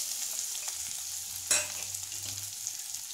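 Onion, green chili, garlic and ginger sautéing in oil make a bright, continuous sizzle with a low hum, and one louder stirring clatter around the middle. No one speaks.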